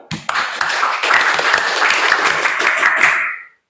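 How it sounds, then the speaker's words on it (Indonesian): A class of students performs the Scout clap, a fast patterned burst of group clapping that runs loud and steady for about three seconds before cutting off. "tepuk pramuka."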